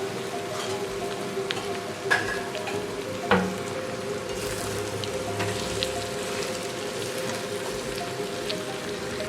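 Spiced potatoes coated in Kashmiri chili powder fry in oil with a steady, soft sizzle, punctuated by a couple of brief clinks or stirring knocks, no voices over it.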